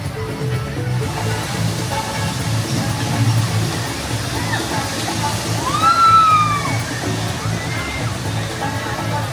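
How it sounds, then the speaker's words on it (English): Waterfalls at Alton Towers theme park pour in a steady, rushing wash of water, with a monorail passing nearby, while faint whistling tones and background crowd murmur sit over the continuous splashing. "I love that shot with the waterfalls and the monorail coming over"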